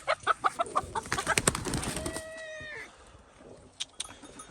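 A chicken on a farm giving a rapid series of clucks, fairly close, followed by a brief squawk and then a few scattered faint sounds.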